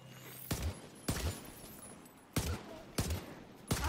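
Liberty weapon gunfire in The Division video game: five loud, sharp bursts spaced about half a second to a second apart, each with a short crackling tail, close and with no voices over it.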